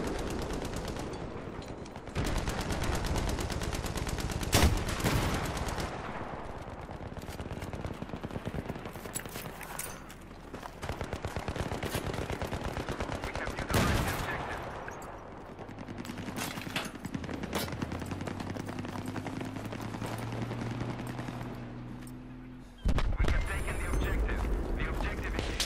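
Sustained automatic gunfire in Battlefield 3 rattles on with sniper and shotgun blasts punching through, loud and near, while a droning tone and sharp bangs break in near the end.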